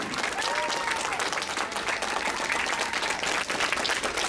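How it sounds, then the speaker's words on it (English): A convention audience at Steel City Con applauds steadily and warmly, a continuous wash of many hands clapping, with some cheering mixed in. "this applause has to last all the way to the stage"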